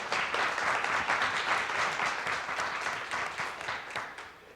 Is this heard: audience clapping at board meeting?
yes